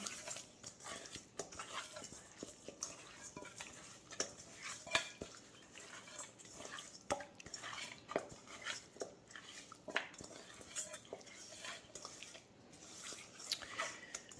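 Teriyaki chicken wings being mixed in a bowl: faint, irregular clinks of a utensil against the bowl with soft wet squishing, quiet and close.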